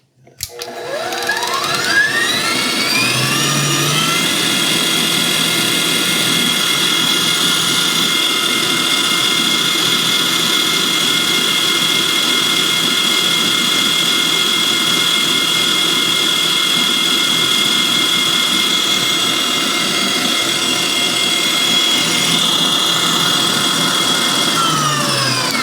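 A Hamilton Beach Professional 5-quart, 450-watt stand mixer runs its whisk attachment through chilled heavy whipping cream, spinning up quickly to a loud, steady motor whine with a high whir that holds unbroken for about 25 seconds.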